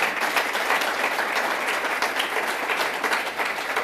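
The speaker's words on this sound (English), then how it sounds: "and now you can applaud for all of them." Full, sustained audience applause for a Rockefeller Foundation innovation panel fills a hall, a thick, even roar of many clapping hands that holds steady without any talking.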